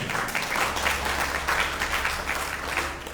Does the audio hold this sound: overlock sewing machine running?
no